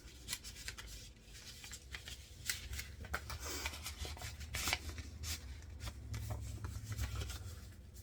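Paper items such as business cards and a small paper butterfly slid into an envelope while an order is packed, giving soft rustling, scraping and shuffling paper sounds with a few brighter crinkles, close and quiet, with no talking.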